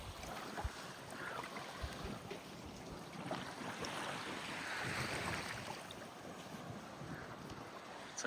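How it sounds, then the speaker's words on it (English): Waves wash onto a beach behind the airport in Montego Bay, Jamaica, a soft rolling surf roar with gusts of wind buffeting the microphone, swelling midway and fading again. "This is a beach here. This is behind the airport."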